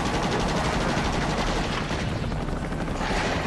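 Sustained gunfire in Ultimate Spider-Man, a dense, loud rattle of rapid machine-gun shots blending with a helicopter-like drone, continuous across a few seconds with no talk.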